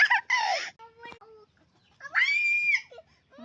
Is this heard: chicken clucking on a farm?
yes